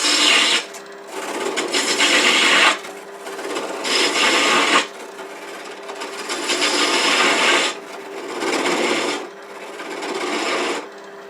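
A spindle roughing gouge cuts scrap wood spinning on a lathe, giving loud rasping, scraping bursts of a few seconds each, repeated about four times with short pauses between passes.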